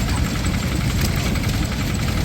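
A vintage vertical Tangye stationary engine, shown at a classic rally, runs close by with a dense, continuous mechanical chugging and vibration, steady and loud throughout.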